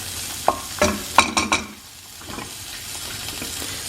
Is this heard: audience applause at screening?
no